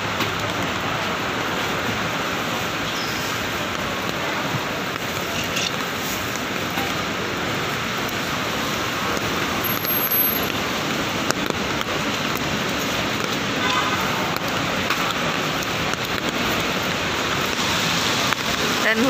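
Heavy rain pours steadily beneath a bridge at a quiet market, a dense, continuous broadband wash with no let-up, fairly loud throughout.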